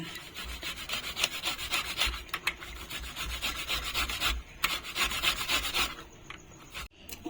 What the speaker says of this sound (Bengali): এখন আমি এগুলোকে একটা গ্রেটার দিয়ে ঘষে নেব